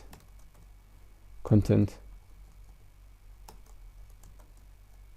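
Keys click faintly and sparsely on a computer keyboard while someone types text for a JavaScript string lesson; a short burst of speech briefly rises over the quiet tapping.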